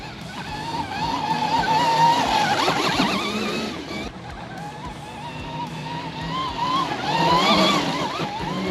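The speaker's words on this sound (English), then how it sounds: "you can wheelie the heck out of that thing" A Chinese Arctic Leopard electric dirt bike riding a wheelie outdoors, its motor whine and tire noise rising and falling in two loud surges with a brief dip between them, with no talk.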